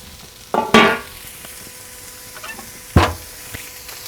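Steak sizzles in a hot pan for a steady, faint crackle, punctuated by two sharper bursts of hissing and scraping as the meat is moved about.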